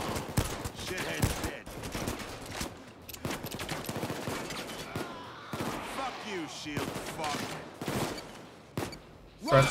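Rapid bursts of gunfire from a heist shootout in the video game Payday 2, loud and close, sounding as dense fusillades and machine-gun volleys in a steady barrage, with someone talking over the shooting.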